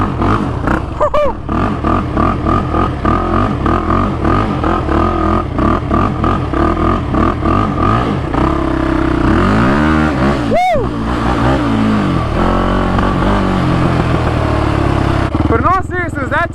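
A Can-Am quad's engine revs and bogs while riding on dirt, loud and close with repeated rising and falling pitch sweeps, wind buffeting, and a person whooping and talking over it.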